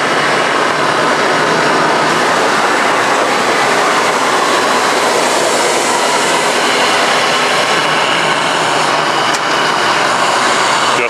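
The saw blade motor of a Model 204 saw runs loud and steady, a dense, continuous mechanical roar with no pauses from start to finish.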